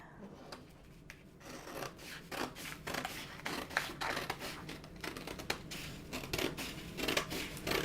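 Scissors snip steadily through a paper sewing pattern, a close, crisp run of repeated cuts and rustles that continues for several seconds with no talk.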